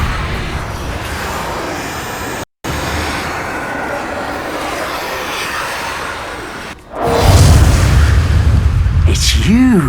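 Loud explosive spell blasts and rumbling magical combat in Hogwarts Legacy, with a continuous roar swelling into a heavier burst near the end while a voice shouts spell names over it.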